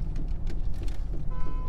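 Road traffic at sunset golden hour, a dense steady rumble of vehicles close by with rushing passes swelling and fading over a couple of seconds.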